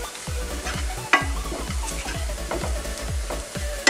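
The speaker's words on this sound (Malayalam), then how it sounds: "പൊടികളൊന്ന് നന്നായിട്ട് മൂത്ത് വരുന്നിടം വരെ ഒന്ന് ഇളക്കി കൊടുക്കാം." Chili and spice powders frying in a pan for a squid roast, a soft sizzle under repeated dull scraping strokes of a spoon stirring in an even rhythm, close and continuous.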